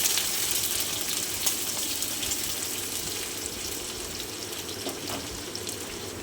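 Onions sizzle in hot oil in a pan as they are stirred, a steady close hiss throughout with faint scraping clicks.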